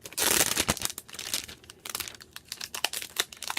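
Protective plastic film peeled off a new electronic device, heard as close crinkling and crackling with quick irregular tearing bursts, loudest at the start and continuing in scattered rustles.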